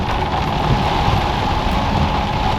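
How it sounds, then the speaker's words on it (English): Steady, dense rain hisses loudly and evenly throughout, a constant wash of noise with no voices. "Hope you can hear me above the rain"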